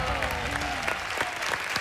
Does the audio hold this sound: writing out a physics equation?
no